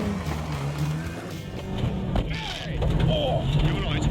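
A Morris Mini-Minor driven fast by a British rally driver, its small engine buzzing and revving unevenly from inside the car, with bumps and thuds over the road and a voice speaking briefly.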